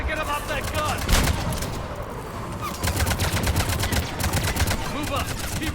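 Rapid automatic gunfire from a mounted gun in Mass Effect 3, loud and close, pouring out in dense bursts over a busy battle mix with shouted voices and explosions.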